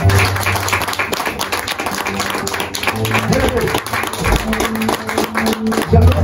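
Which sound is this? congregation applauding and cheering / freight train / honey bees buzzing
congregation applauding and cheering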